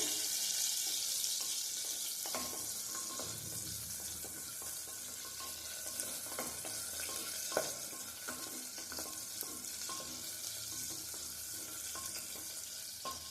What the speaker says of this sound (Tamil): இப்போ வெங்காயம், சின்ன வெங்காயம் நல்லா வதங்கி வந்துருச்சு.